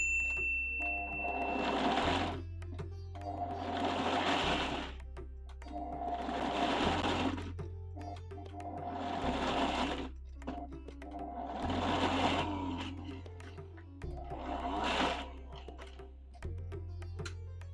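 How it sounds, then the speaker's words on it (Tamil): A kitchen mixer grinder pulsing gooseberries and tomatoes, seven short whirring bursts in a regular rhythm with brief pauses between, moderately loud and close. "அந்த நெல்லிக்காயும் தக்காளியும் போட்டு பல்ஸில் ஓட்டணும்"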